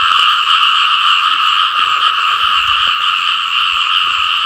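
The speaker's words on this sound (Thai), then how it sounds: "กบเด้อครับนี่2 ตัวเลย" Frogs croak loudly and continuously at close range, a dense rasping chorus with no pauses and no voices.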